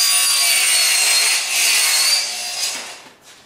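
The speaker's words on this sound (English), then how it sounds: "Next, I'm going to cut my end panels to length." A saw cuts wooden end panels to length for a basic case in a woodworking shop. A loud, steady, close rasping whine runs for several seconds, then dips and tapers as the cut finishes.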